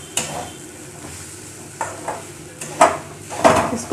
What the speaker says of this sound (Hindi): इसको भी हम अच्छे से मिक्स कर देंगे ताकि ये भी अच्छे से रोस्ट हो जाए